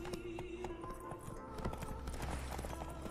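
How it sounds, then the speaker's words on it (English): Horse hooves clip-clopping at a steady walking rhythm in The Witcher 3, fairly close and moderately loud over a dense bed of game music and ambience. "What's up, you wild horses?"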